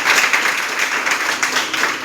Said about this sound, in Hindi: जोरदार तालियां आप सभी लोगों के लिए